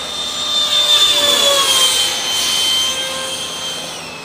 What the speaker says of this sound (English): this is our super cool 70mm ducted fan FA18